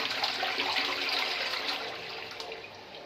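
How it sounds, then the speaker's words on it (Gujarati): Water pours steadily into a toilet's flush tank in a bathroom, making a continuous hissing rush that stays close and fairly loud before easing slightly toward the end, with no voices. "પ્લસની અંદર પણ પાણી આવે છે."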